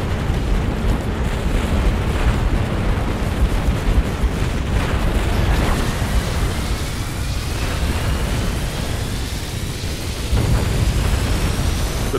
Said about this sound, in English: I'm going to select everything I have and get it to fire at that Scarab.